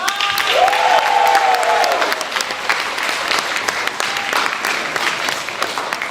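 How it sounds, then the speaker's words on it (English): Applause and cheering from an improv show audience fill the room, with a loud whistle early on, then dense steady clapping carrying on throughout. "Can I get one last round of applause for all of our short form performers?"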